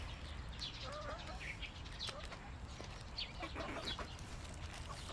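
Soft, scattered clucking from a group of chickens, fairly faint, with a few brief higher calls and a quiet background hum.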